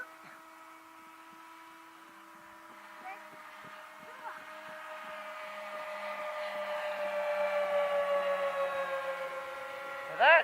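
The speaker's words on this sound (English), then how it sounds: "Well, that sounds like a twin engine Dash 8 or something." A radio-controlled model plane's engine whines steadily at a distance during a takeoff-and-landing session, its tone droning with harmonics and rising gradually louder as the aircraft approaches, with faint background noise and a brief closer burst at the end.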